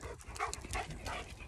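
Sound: dogs running around and panting outdoors

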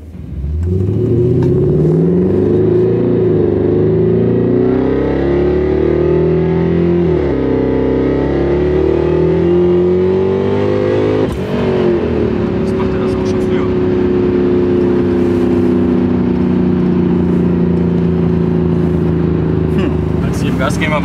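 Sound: supercharged Mercedes C63 AMG accelerating on a test drive

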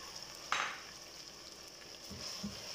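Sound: chicken frying in ginger garlic paste

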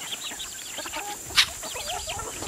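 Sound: hens clucking on a farm

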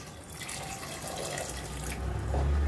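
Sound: pouring water into mutton pot

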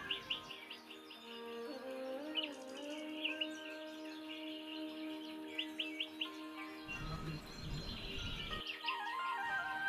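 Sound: birds chirping

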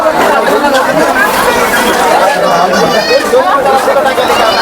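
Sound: crowd chatter at a busy Diwali weekly market in Bodhadi

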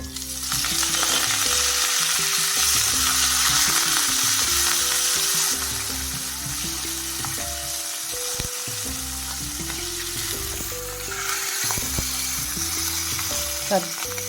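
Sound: frying dried red chillies and curry leaves

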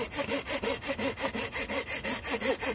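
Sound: Flora Guard hand saw cutting through wood

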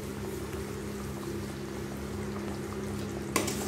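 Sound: chicken gravy boiling in pot

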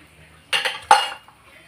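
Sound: stir-frying fried garlic and shallots for chili paste

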